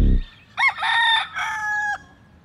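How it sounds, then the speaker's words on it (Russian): A wild rooster in Honolulu crows close by, a clear multi-part cock-a-doodle-doo lasting about a second and a half after a brief low thump, with no talking. "Да, в Гонолулу полно диких кур."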